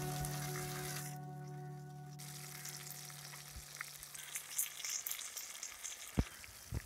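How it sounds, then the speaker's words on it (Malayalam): Tilapia fish frying in coconut oil in a small pan, Kerala style with curry leaves, giving a steady close sizzle and crackle with brief spattering pops throughout. "ചെറിയ പാത്രം ആയതുകൊണ്ട് 2 മീനായിട്ടിട്ട് പൊരിക്കുകയാണ്."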